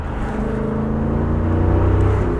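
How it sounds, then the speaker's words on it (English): Heard from inside the cabin of a 2024 Jeep Wrangler 392 V8 on the move, the exhaust gives a steady, loud, low rumbling drone that holds even throughout, with no talking. "I appreciate that this has a bit more of a unique sound than a Scat Pack too."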